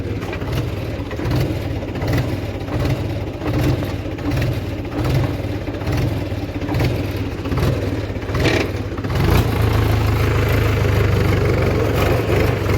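A Mahindra diesel tractor engine runs steadily up close, a loud low chugging idle that swells a little louder toward the end, with no talking.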